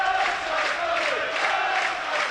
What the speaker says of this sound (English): Crowd find their voice.